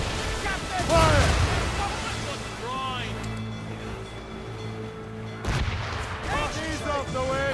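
Ship cannons in Assassin's Creed Rogue boom in two heavy low blasts several seconds apart, amid rumbling sea ambience and voices shouting over the battle.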